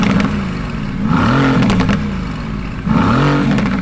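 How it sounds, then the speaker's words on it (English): A 2017 Mercedes-AMG GT engine revs hard and loud, climbing and falling in pitch, then revving again after a brief lull, with the roar close and steady throughout. "the noise this car makes is incredible"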